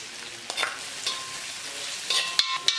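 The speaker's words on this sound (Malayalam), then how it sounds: "ഇനി ഇതിലേക്ക് ഈ ചതച്ച് വെച്ചിരിക്കുന്നത് ചേർത്ത് ഇളക്കി കൊടുക്കാം" Crushed pepper mix with cinnamon and cloves stirred in hot oil for pepper chicken: a low, steady sizzle broken by several sharp spoon clinks and scrapes against the pan, nearby and without talk.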